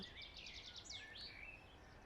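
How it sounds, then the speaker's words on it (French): Wild birds sing outdoors on a green hillside among leaves and wild grasses, several high, bright chirps and warbling phrases layered together over steady faint background hiss, fairly near and continuous. "et le chant des oiseaux."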